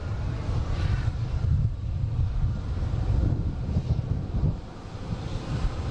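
Delta airliner landing at Boston Logan, a heavy low jet roar swelling and fading with wind buffeting on the microphone, fairly close and loud, with no voices.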